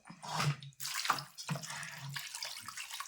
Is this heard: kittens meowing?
no